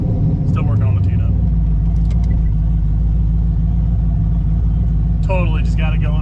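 A freshly started car engine, still mid tune-up, idles with a deep, steady low rumble throughout while people talk over it near the start and end.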